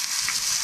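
Bangda mackerel fish frying on a hot tawa over a wood-fired stove, a brief steady close sizzle with no talk.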